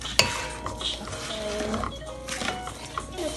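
Pineapple shrimp fried rice stirred in a pan, with a utensil clanking and scraping against the metal over a light sizzle. A sharp clack comes at the start, and voices are faint in the background.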